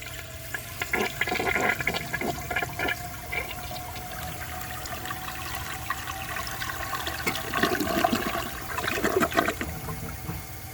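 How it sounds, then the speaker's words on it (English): A 1983 Crane Radcliffe toilet with a standard flapper flushes, a loud rushing swirl of water that surges, gurgles and drains, then trickles as the tank begins refilling, heard alone up close. "So I will show you guys a flush"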